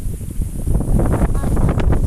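Strong gusty wind buffets the microphone with a low, continuous roar in an open field, and a voice may be faintly present underneath.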